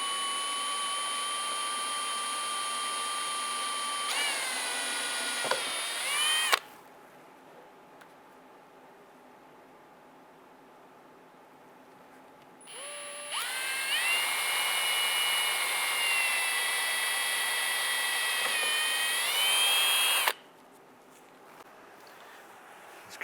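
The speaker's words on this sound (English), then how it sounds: "drill our pilot holes" Cordless drill cutting pilot holes into the rear fender of a 2002-2008 Dodge Ram 1500, two loud sustained whirring runs with rising and shifting motor pitch, separated by a quiet gap, no talk.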